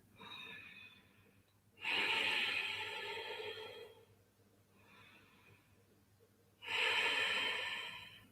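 Deep, slow breaths during restorative yoga, with two long loud exhalations and quieter inhales between, heard close to the microphone with no talking.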